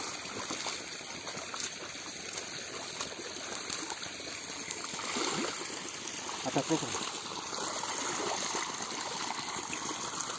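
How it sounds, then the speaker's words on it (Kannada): Water is poured around the base of a coconut plant, making a continuous gushing trickle close to the microphone, with a faint voice briefly audible in the middle. "ಸಗಳಿ ಸುತ್ತ ನೀರು ಬಿಟ್ಕೊಂಡು ಈ ಥರ ಮಾಡಿ ಸರ್."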